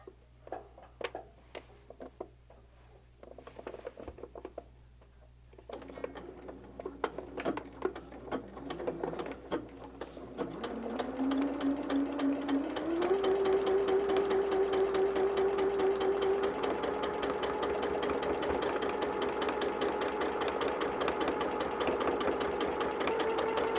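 A sewing machine stitches a mitered inner border on a barn star sampler quilt, working in short quiet bursts at first, then running steadily and loudly for the second half.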